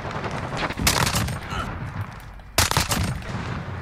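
Bursts of rapid automatic fire from a Fennec (Vector) submachine gun in Call of Duty Modern Warfare ground war, two loud sustained volleys with a short gap between, over steady game noise.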